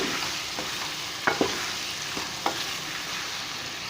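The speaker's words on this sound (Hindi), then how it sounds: "आलू को मैंने भून लिया अच्छे से और जितनी देर में टमाटर नरम होंगे उतने आलू और अच्छे से भून जाएंगे।" Potatoes and tomatoes frying in a pan, a constant sizzle with a few sharp spatula scrapes and taps as they are stirred, close up and without talking.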